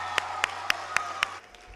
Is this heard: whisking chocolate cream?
no